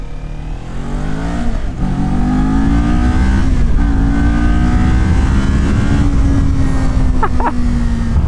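A 2019 Kawasaki Ninja 400 sport bike being ridden, its engine loud and close, pitch climbing through the revs, dropping at gear changes and climbing again, over a rushing background.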